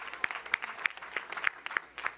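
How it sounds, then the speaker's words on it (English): At a university commencement, claps ring out in a fairly even rhythm, a handful of sharp, close claps at about three per second with a thin patter of other hands behind them. "give yourselves a round of applause."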